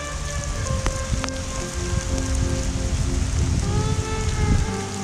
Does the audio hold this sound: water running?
no